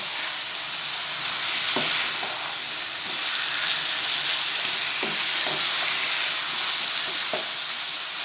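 Chicken bhuna masala fries hard on a high flame, giving a loud, continuous sizzle with scattered scrapes and taps from stirring and no voices.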